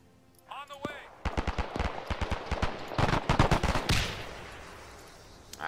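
Gunshots and machine gun fire in the World War II shooter Iron Front, set in Greece: single sharp shots open, then rapid bursts of automatic fire crackle in clustered volleys, loud and close, tapering into a fading echo.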